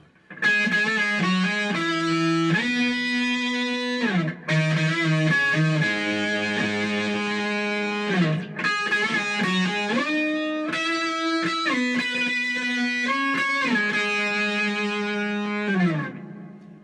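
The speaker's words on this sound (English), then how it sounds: "now I will show you what the guitar solo sounds like from beginning to end with this guitar tone." An electric guitar plays a sustained, distorted solo with doubled octave notes and a reverb tail, phrases flowing continuously with brief gaps between them.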